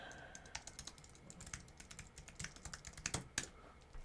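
Quiet, irregular clicking of a computer keyboard at a desk during a live coding session, keystrokes in uneven bursts with no talking.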